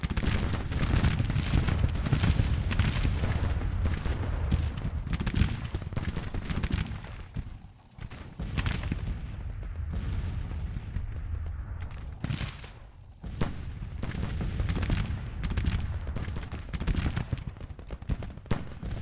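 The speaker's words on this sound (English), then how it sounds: "Close range artillery fires done them over." Artillery and musket fire in Grand Tactician: The Civil War during an 1862 Virginia battle, dense rolling booms and crackling volleys, loud and continuous with brief lulls.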